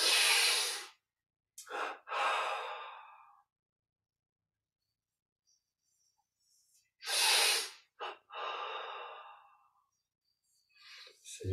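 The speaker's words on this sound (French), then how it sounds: "Et on inspire" Several slow, deep breaths are drawn in and let out during a meditation session, close and clear. Silent pauses fall between the breaths.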